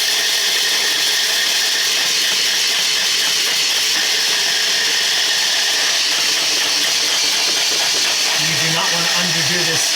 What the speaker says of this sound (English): In a blender or mixer, whatever you have.